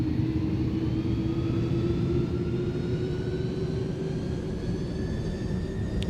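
Jet engines of the iniBuilds A310 in Microsoft Flight Simulator roar steadily at takeoff power, a loud continuous rumble with a droning tone and rising whine throughout.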